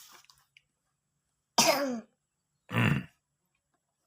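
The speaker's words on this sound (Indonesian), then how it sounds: "Akhirnya batuk lagi kakak" A young child coughs twice, two short rough coughs about a second apart, close up in a quiet room.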